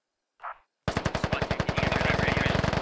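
Sustained automatic gunfire from a squad-based military shooter video game, opening with a brief burst of other sound before loud, rapid, evenly spaced shots run continuously to the end.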